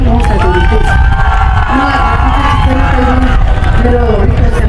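A large crowd at the Dharan Expo 2023 in Sunsari roars and cheers loudly and continuously, a dense, close mass of voices with shouted calls rising above the din.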